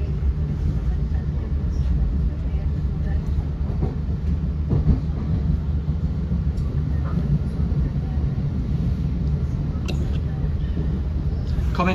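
Steady low rumble of a Thameslink train setting off along the rails between Farringdon and Gatwick Airport, with faint clacks and creaks throughout and a voice talking quietly underneath.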